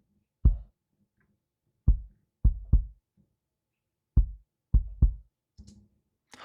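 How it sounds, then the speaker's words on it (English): Kick drum picked up only by a subkick microphone, giving deep, boomy low-end thumps in an irregular pattern of about eight hits with silence between, close and isolated. "So here's the sound of the subkick microphone by itself."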